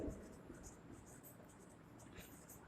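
Pen or marker writing by hand on a board during a physics lesson on potentiometers, a faint continuous scratchy stroke running through the whole stretch with low room noise and no talk.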